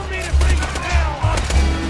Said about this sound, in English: I'm using a shotgun.